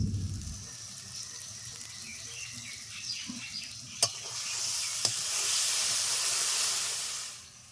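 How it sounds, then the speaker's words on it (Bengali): Spice masala for a chicken curry sizzles steadily in oil while being stirred, a continuous close frying hiss with occasional scraping strokes and a couple of sharp taps. "আস্তে আস্তে মশলাটা কষে নেব মশলা প্রায় কষানো হয়ে গেছে"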